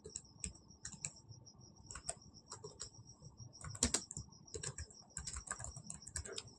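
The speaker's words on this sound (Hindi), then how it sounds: "तो मैं यहाँ पे फटाफट टाइप कर लेता हूँ" Quick, light clatter of keys on a computer keyboard as Java code is typed, a close, steady stream of soft clicks in uneven bursts with a faint background hum.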